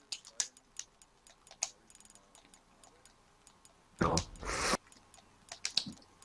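Typing a message to a friend on a PlayStation 3 keyboard: scattered light clicks and ticks spread across the clip, with one loud broadband burst of clatter near the end.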